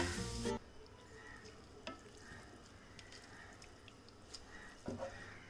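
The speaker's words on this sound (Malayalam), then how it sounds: "ഈ സമയം നമ്മൾ കഴുകി ഡ്രെയിൻ ചെയ്ത് വെച്ചിരിക്കുന്ന ചിക്കൻ പീസസിലേക്ക് ഇട്ടിട്ട് വഴറ്റി കൊടുക്കാം" Chicken pieces sautéing in a cast iron pan for chicken thoran, a loud burst of sizzle at the start, then a low steady frying hiss with occasional stirring clinks and a second flare near the end.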